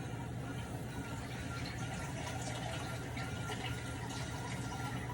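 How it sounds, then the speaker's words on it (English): Water pours into a pot of turkey and chicken broth for soup, a continuous gushing rush that stays even and fairly loud over a low background hum. "I'm going to add 2 more cups of water in here, okay?"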